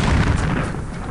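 An explosion in the video game Nox: a loud, dense, continuous rumbling blast lasting about a second, with no speech over it.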